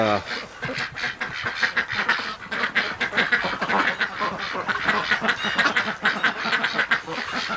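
Muscovy and Rouen ducks in a barn quack repeatedly in a busy, overlapping chorus, close and fairly loud, with a person speaking at times underneath.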